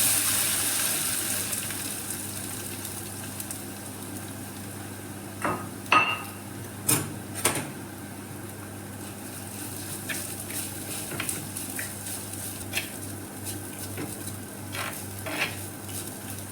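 Grated coconut paste with dried red chillies cooks in a pan for a banana blossom thoran. A faint steady sizzle runs beneath occasional sharp clinks and scrapes of a spoon against the pan.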